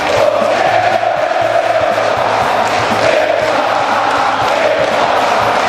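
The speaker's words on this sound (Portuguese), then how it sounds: "E a torcida visitante do Cruzeiro no Independência fazendo a festa." Cruzeiro away supporters chant and celebrate inside Independência stadium, a dense, continuous crowd roar with rhythmic chanting and a steady low drumbeat underneath.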